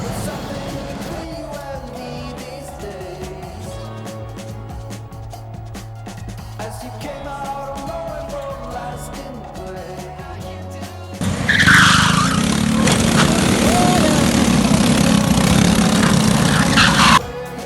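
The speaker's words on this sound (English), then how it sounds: "So today it's all about karts." Go-karts racing around an outdoor kart track, engines buzzing and whining past at varying distances before a much louder, dense roar of karts close by takes over for the last stretch.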